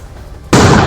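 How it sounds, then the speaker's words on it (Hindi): A loud, sudden blast from an army bomb disposal squad destroying an IED in a controlled explosion in Poonch, Jammu and Kashmir, breaking abruptly out of quiet background into a sustained, roaring boom. "आप सुन सकते हैं बहुत जबरदस्त धमाका हुआ"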